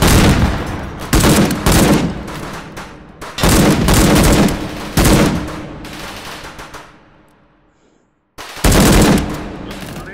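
Gunfire in the VR game H3VR, loud close bursts of rapid shots with short pauses between volleys, then a quiet gap before a final burst.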